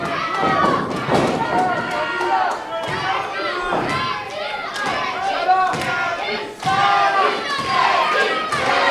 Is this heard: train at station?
no